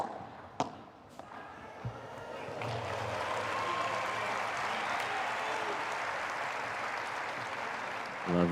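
A padel crowd on a central court breaks into applause after a drop shot, opening with a few sharp ball and racket knocks before steady clapping builds and holds at moderate volume, with a final knock at the end.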